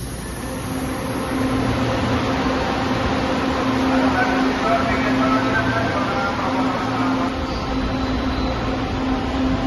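A train rumbles steadily with a droning hum and whine as it pulls into a station in Manila; the loud mechanical noise stays constant throughout.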